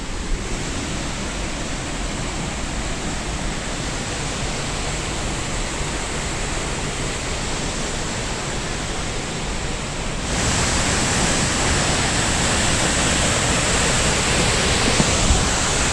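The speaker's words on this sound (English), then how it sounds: "I think there's 5 waterfalls along this trail." Waterfalls along a Rocky Mountains hiking trail in Alberta give a steady, dense roar of falling water that continues unbroken, swelling louder about two-thirds of the way through as the falls draw nearer.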